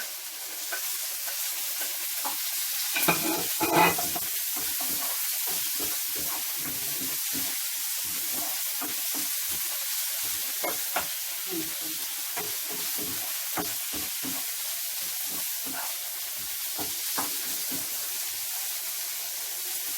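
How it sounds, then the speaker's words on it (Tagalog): Tomato stir-fries in a pan with bitter gourd and shrimp, giving a continuous close sizzle broken by repeated scraping stirs and a few sharper spatters, with no one talking. "Lutuin lang natin yung tomato."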